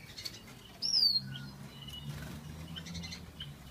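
Bullfinches in an outdoor aviary give a few faint, brief chirps and a short sharp whistle over quiet background rustle.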